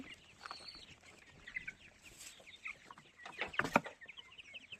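Several month-old chickens cluck and squawk in agitated bursts as they fight, moderately distant, with a sharper flurry of squawking near the end.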